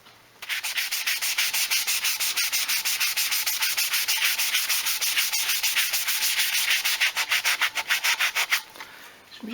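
Sandpaper rubbing back and forth over the paint finish of a Les Paul guitar body, a steady close rhythmic scrubbing with coarser grit that runs continuously for about eight seconds, then slows into a few separate strokes before stopping.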